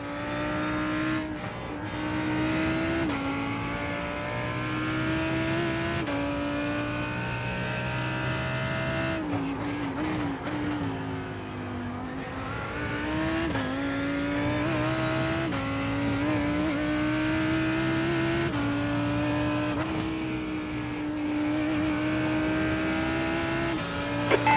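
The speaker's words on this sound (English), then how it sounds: "Blue flag. Faster car approaching. This guy's their class leader. Yep, that's the Porsche." Vintage race cars, a 1962 Porsche among them, lap Lime Rock during an IMSA Hagerty race, engines droning loud and steady from start to finish, pitch rising and falling through gear changes and passes.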